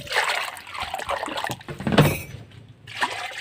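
Water pours and sloshes into a cooking pot of pork for a sour soup, a short trickling splash rising and fading over a few seconds.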